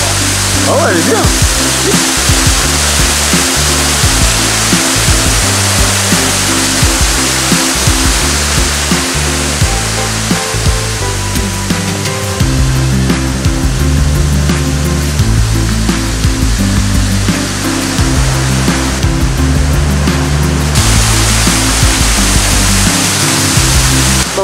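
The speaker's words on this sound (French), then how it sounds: "derrière moi encore la cascade qui est juste ici" A waterfall on Jeju Island, South Korea, near the ocean, pours with a loud, continuous rushing roar that fills the whole stretch, and a voice talks faintly underneath.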